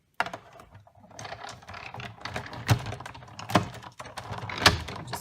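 A hand-cranked die cutting machine rolls a circle framelit through card stock, making a stream of close ratcheting clicks and thunks with a few sharper knocks.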